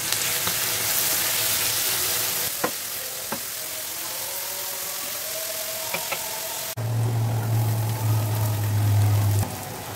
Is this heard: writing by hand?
no